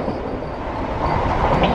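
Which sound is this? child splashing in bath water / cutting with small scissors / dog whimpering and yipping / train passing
train passing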